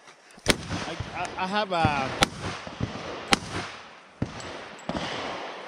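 Sharp, loud gunshots from a custom AR15 rifle at an outdoor firing session, a handful of single cracks spaced about a second apart, with people talking and shouting between shots.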